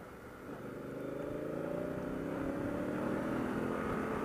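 A 2016 Honda Africa Twin motorcycle engine revs up steadily under acceleration, a close, rising drone with clear harmonic tones that grows louder and holds for several seconds.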